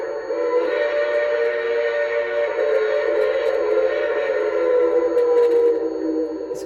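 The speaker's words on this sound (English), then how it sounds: "The long whistle." Long whistle from a Bachmann two-truck Shay model locomotive with a Zimo sound decoder: one steady, sustained tonal blast held for several seconds at an even volume, with no talking.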